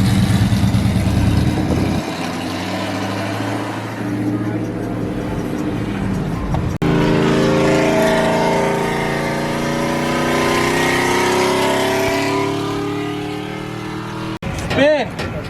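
A car engine roars and revs at a truck meet, loud and close, with rising and falling pitch swells under shouting voices in the crowd.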